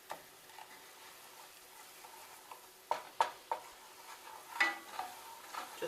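Gravy stirred in a pan over medium-high heat, a utensil scraping and breaking up chunks with a few sharp knocks and scrapes against a faint background sizzle.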